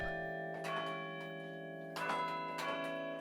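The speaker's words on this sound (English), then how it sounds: "the sound of a bell doesn't just ring and quit. It rings and then it fades away." Church bells ring with sustained, overlapping tones, the strikes coming about every half second to second and each one fading into a long, humming decay, moderately loud and with no voices.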